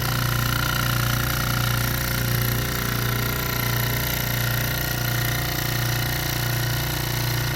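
A filtration pump runs during a total suspended solids test, putting out a loud, steady mechanical hum that holds constant throughout.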